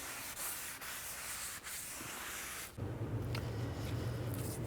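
Rag rubbing and wiping down front brake parts after a spray of brake parts cleaner on a 2002-06 Chevy Avalanche, a steady close scrubbing sound that shifts to a rougher, louder rubbing near the end.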